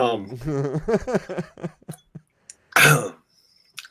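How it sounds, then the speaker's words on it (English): A person talks briefly, then a single harsh, loud cough bursts out close by, followed by near silence. "got a cough?"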